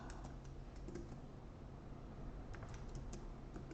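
Steady computer keyboard typing while text is entered in an InDesign layout, a dense run of quick clicks close up over low background hum.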